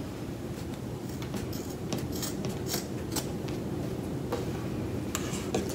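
Scissors trim the edges of a handmade fabric mask, a series of close crisp snips spaced irregularly over a steady low background hum, no talk.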